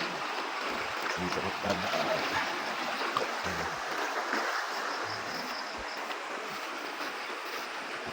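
Strong river current rushing steadily, a broad continuous outdoor roar of flowing water with wind buffeting the microphone and someone speaking briefly over it.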